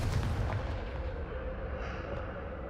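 A Confringo fire spell explodes in the video game Hogwarts Legacy, a heavy, rumbling boom that starts loud and decays into a sustained roar with no talking over it.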